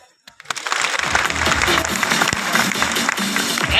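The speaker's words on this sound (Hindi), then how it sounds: "एक ताली बजाओ।" Audience applause breaks out after a short pause and carries on steadily, a dense wash of many hands clapping together for several seconds.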